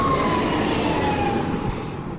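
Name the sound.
fire engine siren passing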